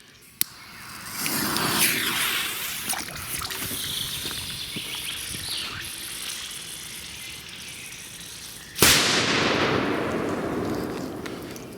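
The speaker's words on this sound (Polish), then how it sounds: "Ale są w miarę głośne te petardy" A sharp firecracker bang opens, followed by crackling and fizzing; later a second loud blast from a firecracker thrown into water bursts and rings out into a fading hiss. Outdoors, no voices.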